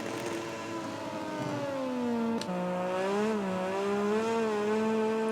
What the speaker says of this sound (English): Did love that engine feedback sound.